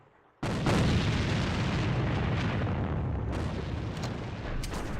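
A grenade detonates in the first-person shooter AVA with a sudden loud boom, then a long, heavy rumble that stays strong for several seconds.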